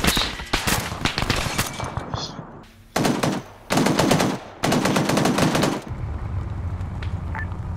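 Bursts of automatic gunfire from an Arma 3 military mission firefight, loud rapid volleys in several separate stretches with short gaps between them, plus a few faint single shots and a soft background hum.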